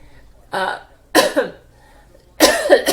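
Three separate coughs, harsh and close, spaced about a second apart against a quiet background.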